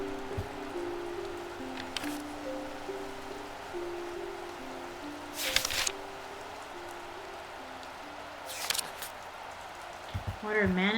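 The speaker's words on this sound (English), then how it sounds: "Got a storm." Storm rain falls in the Strange Antiquities video game, a steady soft hiss under faint background tones, with brief louder rushes and a voice speaking near the end.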